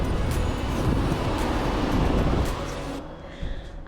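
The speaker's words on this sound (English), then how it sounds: "Can you hear the waves crashing?" Ocean waves crashing on a shore, a broad rushing wash that swells and then recedes into a softer hiss, heard from nearby with no talk.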